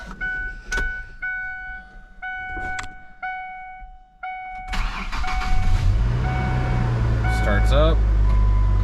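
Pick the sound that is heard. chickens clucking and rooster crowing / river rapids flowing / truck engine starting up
truck engine starting up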